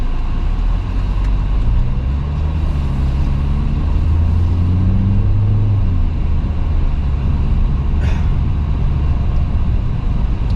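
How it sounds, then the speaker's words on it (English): Cars drive fast along a road, a steady close rumble of tyres and engines with vehicles swelling past in overlapping waves, loud and continuous with no talk. "And cars don't drive slowly along here, they drive really, really fast."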